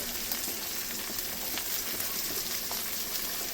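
Onion and green chili sizzling in a pan with capsicum, a steady close crackle and hiss of frying throughout, no voices.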